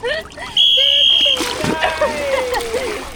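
A dolphin splashes water amid high-pitched whistles and chirps at a dolphin research center in Marathon, Florida, with people talking and exclaiming over it nearby.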